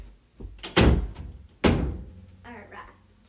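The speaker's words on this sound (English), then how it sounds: "I gotta go close my door so you don't hear the background noises." Indoor door shut twice in succession, two heavy thuds with a brief rattle, close and loud, followed by faint voice sounds.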